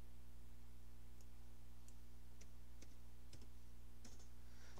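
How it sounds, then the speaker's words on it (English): Numbers typed on a computer keyboard while working out antenna dimensions: a few faint, scattered key clicks at irregular intervals over a low steady hum, with no voices. "So if I type that in there"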